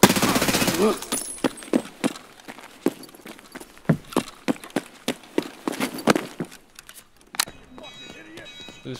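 Gunfire in Escape from Tarkov: a steady run of sharp, evenly spaced shots, loud at first then a little farther off, with a voice speaking briefly over the firing.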